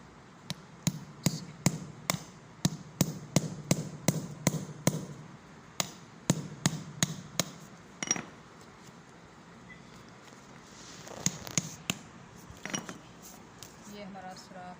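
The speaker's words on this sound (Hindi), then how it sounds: "मैं इसके अंदर ये सुराख करूँगी कील के साथ" A nail is hammered to punch a hole in an object resting on pliers, a run of sharp, evenly spaced metallic taps, close and fairly loud, then a pause and a few scattered strikes with faint clatter.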